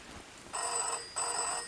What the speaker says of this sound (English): I gotta say, was not expecting the phone to ring.